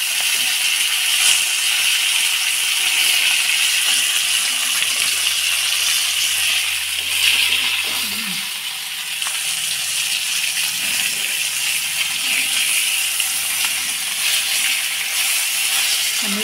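Pieces of singhi fish fry in hot oil in a home kitchen, giving a loud, steady sizzling hiss that runs unbroken for the whole stretch with no talk.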